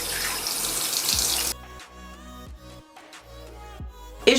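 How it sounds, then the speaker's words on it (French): A bathroom sink tap runs in a loud steady rush for about a second and a half while a face is rinsed after micellar water, then cuts to quieter splashing and dripping, with no talking. "je viens ensuite rincer mon visage, toujours rincer son eau micellaire"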